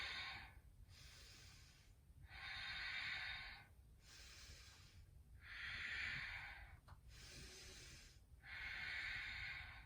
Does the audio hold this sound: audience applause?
no